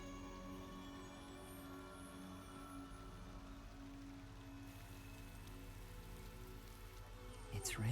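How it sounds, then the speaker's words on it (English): Steady rain falling on a surface, a continuous even hiss and patter held at a constant level throughout, with a brief louder sweeping sound at the very end. "It's raining."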